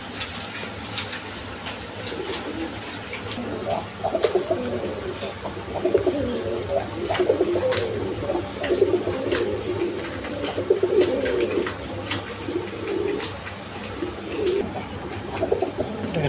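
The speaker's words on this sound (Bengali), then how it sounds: "দেখেন একদম ফ্রেশ কোয়ালিটি কবুতর" Pigeons cooing on a pigeon farm with a steady, repeated rolling coo that is moderately close and keeps going throughout, with a person talking now and then over the birds.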